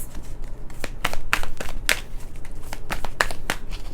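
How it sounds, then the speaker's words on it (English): Oracle tarot cards being shuffled by hand, a close series of crisp riffling and slapping bursts with papery crackle, irregular in rhythm and heard alone. "I'm feeling led to shuffle"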